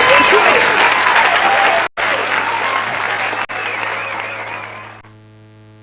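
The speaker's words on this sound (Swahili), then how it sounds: "Tuongezee makofi tafadhali." Audience at a Kitui County youth engagement forum breaks into sustained, dense applause that fills the room, briefly cutting out twice before fading to a low hum at the end.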